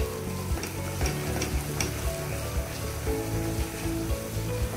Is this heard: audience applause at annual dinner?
no